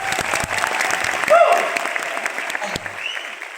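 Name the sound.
audience applause at a trading seminar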